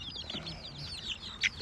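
Baby chicks chirp in a brooder, a rapid series of high thin peeps close by, with a louder sharp chirp near the end over low background noise.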